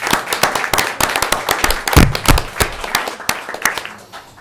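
Audience applause at a city council regular meeting in Ojai, loud and close with sharp individual claps in a steady dense patter throughout, a few heavier thumps in the middle.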